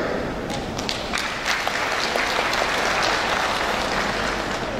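Loud, dense applause from a large crowd at a graduation ceremony at Poltekkes Kemenkes Jambi, sustained and steady throughout with a few sharper individual claps standing out.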